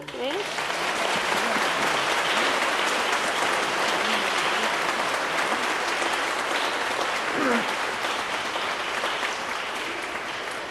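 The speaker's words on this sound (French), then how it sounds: "On va applaudir très fort les confirmants." A church congregation applauds the confirmation candidates at a Mass, sustained clapping that fills the room for several seconds at steady volume, with some voices mixed in.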